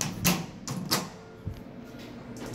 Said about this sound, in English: Different door operator.